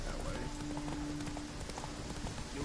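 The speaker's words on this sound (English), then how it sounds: "I don't know why my horse took me that way." A horse's hooves clip-clop at a steady pace in The Witcher 3, soft and even under a faint ambient bed, while a person talks over the gameplay.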